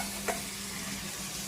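Fish curry cooking in a pan after the fish has been fried, giving a faint, steady hiss with one brief clink early on.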